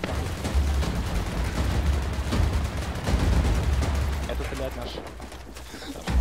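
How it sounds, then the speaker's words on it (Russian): Rapid gunfire from a teammate's weapon in an Arma 3 battle, dense cracking bursts over a steady low rumble, close and loud throughout with voices talking in the mix. "Это стреляет наш."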